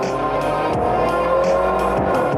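Hyundai Veloster N with DCT accelerating hard: a loud, continuous engine roar with brief shift breaks, close and alone with no talking.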